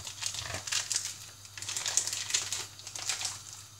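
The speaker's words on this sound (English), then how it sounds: "I'm going to open them up with my very blunt scissors" Plastic packaging crinkles and crunches close up, with irregular bursts of rustling and snipping as it is cut open with blunt scissors.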